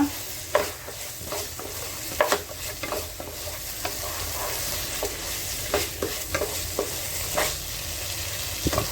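Squid chilli fry sizzles steadily in a pan while a spoon stirs and scrapes through it, giving irregular close clinks and scrapes over the constant frying hiss.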